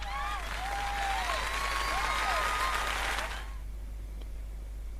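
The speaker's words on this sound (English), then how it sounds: "Once more, please give a big round of applause for our talented participants." Crowd applause and cheering in the video game Fire Emblem: Three Houses, a dense, steady clapping with whistles that fills the first few seconds and then drops to a low ambient hum.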